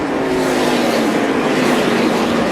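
NASCAR Xfinity Series race cars battling on track, a dense, loud, unbroken engine roar filling the whole moment with no voices.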